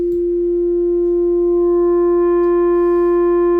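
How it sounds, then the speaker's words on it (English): A steady sine tone processed through a Bitwig saturator distortion, loud and constant with added harmonic overtones, alone without any talk. "the saturator is going to force the signal to take this shape, which is easier to visualize with a sine wave"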